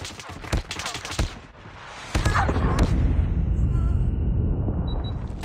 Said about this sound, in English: Enemy Predator missile inbound